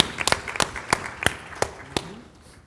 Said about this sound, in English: I will applaud that.